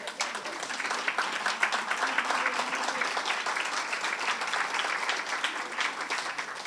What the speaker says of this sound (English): let me give you a big round of applause